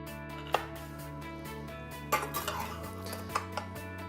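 A knife cuts into a cooked meat dish stuffed with cabbage, onion and rice, giving a few sharp clinks and scrapes against the plate over soft background music.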